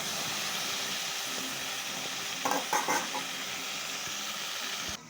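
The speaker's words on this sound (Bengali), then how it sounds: "ফুলকপিগুলো এখন একটু ভালো করে ভেজে নিতে হয়" Cauliflower and potatoes fry in a pan with a faint, steady sizzle and a few brief stirring scrapes near the middle, with no voices.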